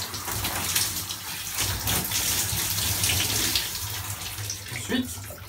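Running water from a hose or tap gushes steadily over a donkey's coat to wet it before shampooing, a loud close spray that shifts a little as the stream moves, with brief voices underneath.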